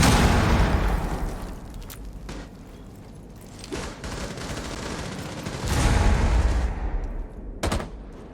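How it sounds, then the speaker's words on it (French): Grenade blast and rapid gunfire in the tactical shooter Rainbow Six Siege, a dense wall of shots and booms throughout with a heavier burst near the end. "Grenade lancée."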